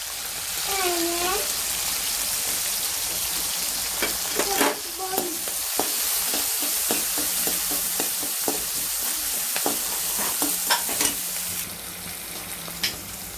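Chopped onions with green chillies and salt sizzle in a pan as the base for a mixed vegetable curry, a steady close hiss broken by repeated scraping clicks of a spoon stirring.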